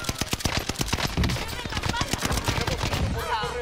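Rapid bursts of video game gunfire from an NZ-41 rifle, with dense sharp shots cracking one after another, loud and close throughout, with a voice faintly underneath.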